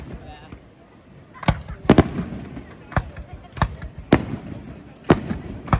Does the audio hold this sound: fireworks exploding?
yes